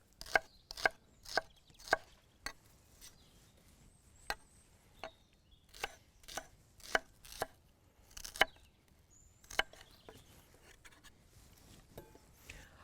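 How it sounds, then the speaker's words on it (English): Sharp knife strokes on a cutting board while thinly slicing shallot or red onion, a run of crisp, evenly spaced chops up close, pausing briefly midway, with no talk. "Then thinly sliced shallot or red onion."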